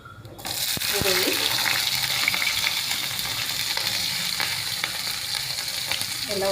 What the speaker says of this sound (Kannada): ಎಲ್ಲ ಒಗ್ಗರಣೆ ಕೊಟ್ಕೊಂಡಿದ್ದಲ್ಲ ಅದೆಲ್ಲ ಹಾಕಿ ಫ್ರೈ ಮಾಡ್ಕೊಳ್ರಿ.